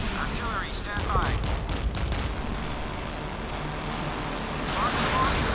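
Warship artillery firing in a naval combat video game aboard the heavy warship RF Admiral Nakhimov, a dense rumbling barrage of repeated blasts under constant low roar, with a few brief synthetic chirps and voice-like alerts.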